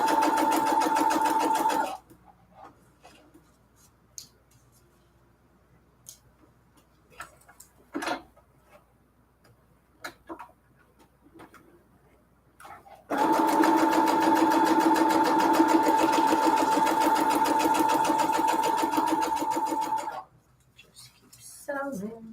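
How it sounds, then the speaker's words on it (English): A sewing machine stitches junk journal pages in two loud, steady runs, a short burst at the start and a longer stretch later on. Between them come quiet handling noises and a few clicks. "Just keep sewing."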